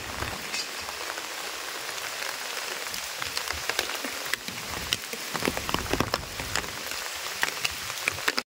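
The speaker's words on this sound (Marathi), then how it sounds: "पाऊस बघा किती आहे।" Heavy monsoon rain in Ratnagiri on the Konkan coast pours down steadily, a dense close hiss of drops hitting surfaces with scattered sharper splats throughout, loud and continuous with no voices.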